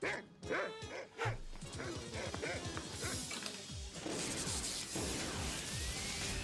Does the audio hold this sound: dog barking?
yes